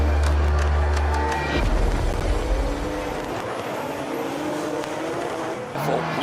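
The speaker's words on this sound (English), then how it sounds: "They flick the cars from left to right and in to outside zone one." Drift cars at the DriftMasters 2025 final roar loudly with revving engines as they slide, then the sound drops into a sustained, slightly more distant engine and tire wash.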